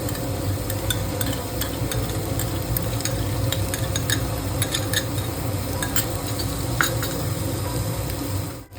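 Chicken fried rice with Schezwan chutney is stirred in a hot pan, a continuous close sizzle under steady scraping, with scattered clinks of the spatula against metal.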